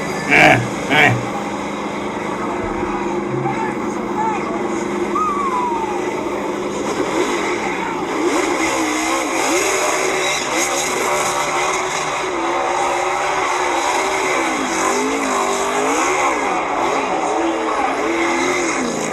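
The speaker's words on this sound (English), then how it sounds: "Finally, let's see those burnouts." A NASCAR Xfinity Series race car does celebratory burnouts after the championship race at Phoenix, heard as a broadcast. The engine roars and wavers in pitch over a long stretch, with crowd noise and a person talking over it.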